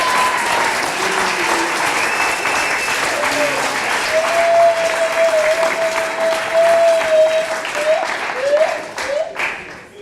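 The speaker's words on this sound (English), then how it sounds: "A big applause" An audience applauds at the International Street Paper Awards 2013 ceremony, with steady, dense clapping for the full stretch and a faint voice speaking over it.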